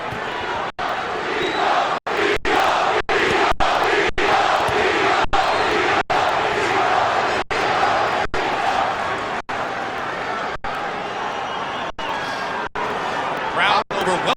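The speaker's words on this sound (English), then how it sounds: "Crowd overwhelmingly in favor of Trinidad" Boxing arena crowd at the Bernard Hopkins vs Felix Trinidad fight roaring steadily, a dense, loud, continuous wall of cheering and shouting with scattered sharp bursts throughout.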